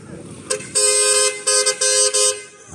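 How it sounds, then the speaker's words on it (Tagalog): A noisy truck sounds its horn on a street near a beach, with several loud honks in an uneven rhythm over a low engine rumble and background noise. "Ang ingay ng truck."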